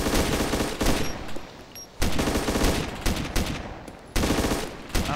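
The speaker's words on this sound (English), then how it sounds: "I'm shooting him in his feet" Repeated bursts of rapid gunfire in a multiplayer survival shooter, loud and close, arriving in several clusters spaced about a second apart with brief lulls between volleys.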